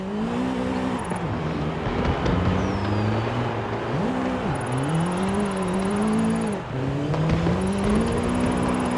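A Mustang Mach-E 1400 electric drift car sliding sideways in Forza Horizon 5, a loud, steady electric motor whine rising and falling as the car swings through drifts, with tyre noise throughout and no talking.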